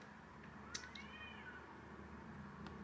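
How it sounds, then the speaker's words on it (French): A cat yowls outside, a drawn-out wavering meow rising and falling once, faint and distant over steady background hiss. "vous avez entendu le chat dehors, comment il a gueulé"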